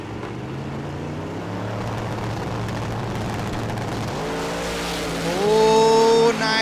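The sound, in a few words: drag racing cars making a pass at Las Vegas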